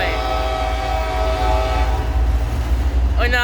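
A CSX freight train led by a heritage unit locomotive rumbles past, loud and continuous, with a long horn blast sounding over the rolling train noise and a brief voice near the end.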